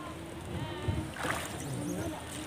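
Oars pull a rowboat through the calm water of Halong Bay, making soft, quiet swishes and splashes while someone talks nearby.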